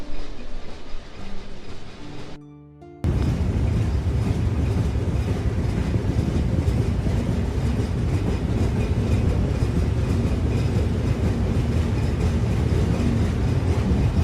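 Riding aboard the Chitra Express through Singia railway station, a steady loud rumble and rattle of train cars fills the space, briefly dipping before a sustained roar of wheels on track.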